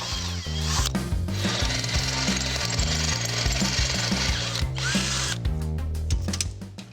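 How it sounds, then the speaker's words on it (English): A power drill bores mounting holes for a Jeep radiator in loud, sustained runs with short pauses, then tails off into a few quick ratcheting clicks. "Now we can drill the holes."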